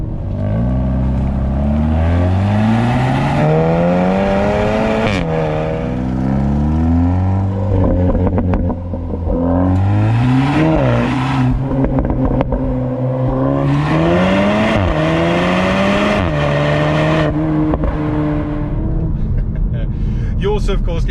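A 350bhp Seat Cupra Ateca ABT limited edition with the optional Akrapovic exhaust, revved repeatedly, the engine note rising and falling in loud sweeping pitches, close by with sharp blips and a continuous raspy drone.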